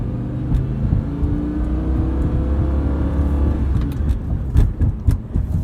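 A 2007 Lamborghini Gallardo with a gated six-speed manual pulls hard, its engine a steady, loud drone. Sharper rev bursts near the end come across as close and continuous.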